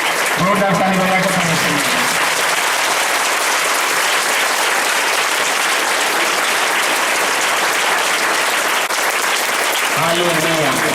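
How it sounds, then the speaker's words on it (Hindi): Loud, sustained applause from a church congregation during a Friday morning prayer service, a dense steady roar of clapping lasting about eight seconds, with a voice speaking briefly at the start and again at the end. "जोरदार ताली बजाकर"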